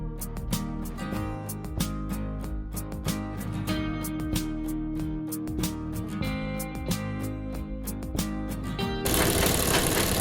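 A sewing machine stitches a pillow cover made from scrap fabric, running in a steady rapid mechanical rhythm of needle clatter, close and continuous, before ending in a burst of broad noise.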